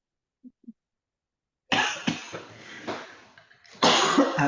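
After two faint clicks and a pause, someone coughs hard and repeatedly up close, a harsh, raspy fit with brief catches of breath.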